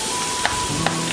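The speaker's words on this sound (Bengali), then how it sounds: "পেঁয়াজটা লাল লাল ভাজা হোক, তারপর অন্য মশলা।" Onions frying in a pan for a Wallago fish curry, a close, continuous sizzle broken by two quick stirring scrapes.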